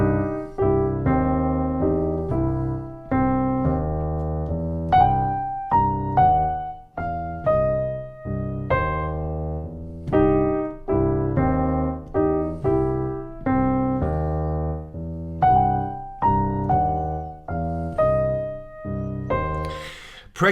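Piano playing an easy blues exercise, steady rhythmic chords and bass notes repeating in a loping pattern, close and clear with no talking.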